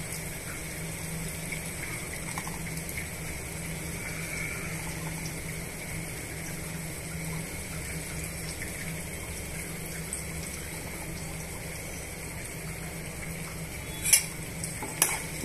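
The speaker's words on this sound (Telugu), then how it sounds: "ఇప్పుడు మనం ఇందులోకి ఒక 4 వంకాయలు కట్ చేసి పెట్టుకున్న వంకాయ ముక్కల్ని ఇందులో యాడ్ చేసుకోవాలండి." Cut brinjal pieces frying in a pan with tomato for a curry, a steady soft sizzle and stirring hiss throughout, with a few clattering knocks near the end and no talking.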